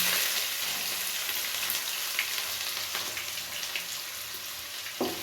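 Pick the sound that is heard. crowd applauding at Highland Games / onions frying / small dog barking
onions frying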